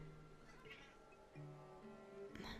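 A domestic cat meows several times nearby, quiet, drawn-out calls that rise and fall, with faint background game sounds around them.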